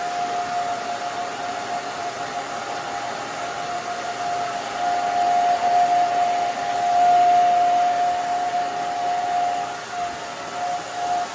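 A hair dryer runs steadily at close range, blowing as it is moved back and forth while styling an asymmetrical haircut, its whining drone holding for the full stretch with slight swells in loudness.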